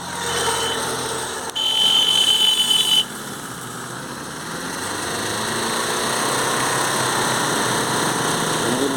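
A Tata Manza car engine with a black smoke and poor pickup fault is revved: a brief higher-pitched rise early on, then a steady close engine drone that builds slightly, with no voices.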